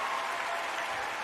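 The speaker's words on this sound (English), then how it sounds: "I had to give you a round of applause for that one." A dense, steady burst of applause, many hands clapping together without pause, loud and close.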